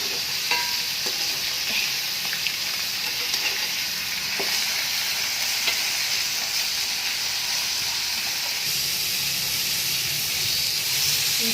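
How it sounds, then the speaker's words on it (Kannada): Pork pieces fry on a tawa in released oil, a constant dense sizzle with light clicks and scrapes from turning, close and continuous with no talking. "ಹಂಗೆ ತಿರುಗಿಸ್ಕೊಂಡು ನೀವು ಫ್ರೈ ಮಾಡ್ಕೊಳ್ಳಿ."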